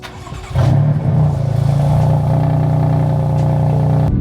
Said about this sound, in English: Let's go ahead and get a cold start for you guys so you guys can see what it sounds like